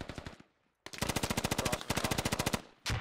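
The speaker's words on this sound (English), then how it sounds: "Getting shot at." Automatic gunfire in the military shooter game Squad, loud rapid bursts of machine-gun shots in quick succession, with a brief gap before a longer sustained volley and a final shot.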